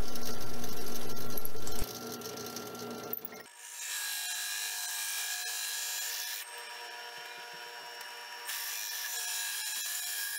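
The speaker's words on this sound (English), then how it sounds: "Now using the hole saw to cut the knob completely out of the wood." A hole saw grinds through wood cutting out a knob, a steady, harsh rasping drone that shifts pitch a few times as the cut progresses.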